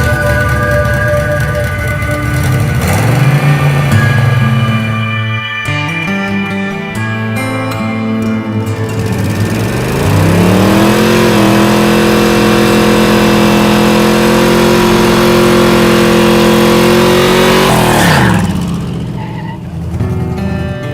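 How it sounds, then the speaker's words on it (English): A dragster truck engine with a stuck throttle revs hard and roars at close range, its pitch climbing and holding high for long stretches, then dropping between bursts across about twenty seconds. "You need to fix the stuck throttle."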